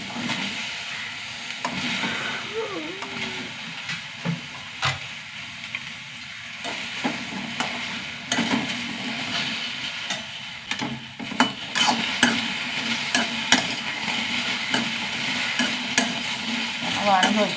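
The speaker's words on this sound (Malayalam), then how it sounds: "എണ്ണയൊന്നും വേണ്ട, എണ്ണയില്ലാണ്ട് വറുത്തെടുക്കാം." Okra is stirred and dry-roasted without oil in a pan, giving a steady scraping and rustling with soft crackles and sharp knocks of the utensil against the pan throughout.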